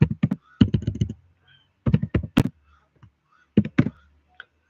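Computer keyboard typing in short clustered bursts of close, crisp key taps separated by pauses, entering a trading order on a chart, with no voice over the clicks.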